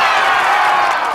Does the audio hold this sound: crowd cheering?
yes